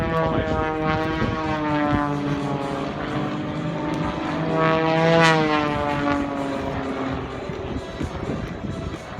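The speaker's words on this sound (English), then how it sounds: "Remaining two aircraft will join up in formation." Propeller aircraft flying in formation at the 2017 Australian International Air Show, a loud, sustained engine drone whose pitch bends and rises as the planes pass close overhead.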